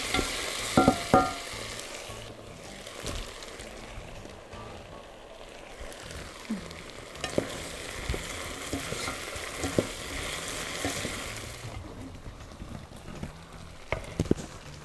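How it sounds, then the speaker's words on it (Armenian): Eggplant frying in a pan while being stirred for an Armenian summer vegetable dish, a steady soft sizzle under scattered scraping and clattering of the utensil, with no talk. "Արդեն կարող ենք սմփուկը ավելացնել։"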